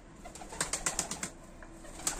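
Pigeons take off, their wings clapping in a quick run of sharp, rhythmic flaps that sound close by, then fade before a last flutter, with no voices.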